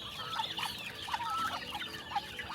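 Several chickens cluck and chatter nearby, short bursts overlapping against a busy outdoor background.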